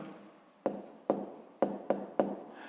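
Handwriting on paper while working a grade-5 math exercise gives five sharp, close pen taps or strokes at irregular intervals over a quiet background.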